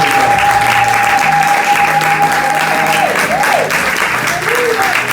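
A church congregation applauds the Lord at a Sunday service, loud sustained clapping filling the room, with a voice calling out over it and a steady tone partway through.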